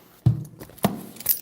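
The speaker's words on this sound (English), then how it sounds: "Put the keys to the Benzo up." Mercedes-Benz car keys jangling as they are set down, two or three brief metallic clinks close by in a quiet room.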